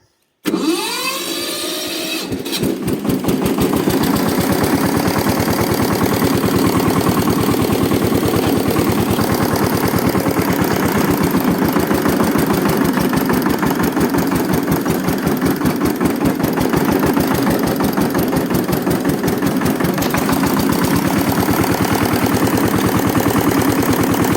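A farm machine's engine cranks, catches and settles into a steady, loud idle close by at the start of spring field work, its fast regular thrum continuing alone without a break.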